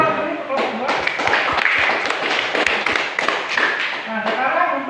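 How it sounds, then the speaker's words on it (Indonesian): Students in a classroom clap for a group that has just presented in a chemistry lesson, a dense, steady patter of many hands lasting several seconds, with a few sharper slaps and thuds mixed in. "Berikan aplaus dulu untuk kelompok"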